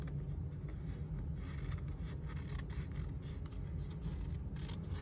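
Paper trimmer slicing across a paper envelope, a soft continuous scraping rasp, close and quiet with no talk.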